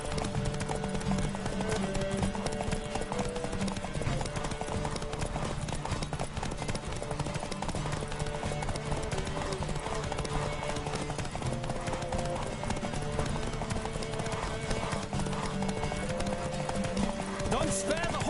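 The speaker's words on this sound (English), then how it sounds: "Don't spare the horse!" Rhythmic galloping hoofbeats from a horse in the video game The Witcher 3: Wild Hunt pound continuously, with occasional whinnies and voices shouting over the steady clatter.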